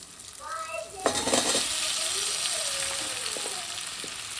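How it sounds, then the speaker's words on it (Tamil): Vegetables such as drumstick, potato and brinjal hiss and sizzle steadily in a hot pan, with a sharp clatter of stirring near the start and faint utensil scrapes throughout. "இப்போ நம்ம எடுத்து வச்ச காய்கறி எல்லாம் சேர்த்திக்கலாம்."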